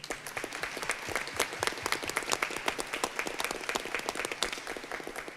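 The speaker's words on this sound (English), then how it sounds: "give a one big round of applause for the" An audience at a school district board meeting claps for families in a long, dense round of applause, steady and continuous from start to finish, heard from within the room.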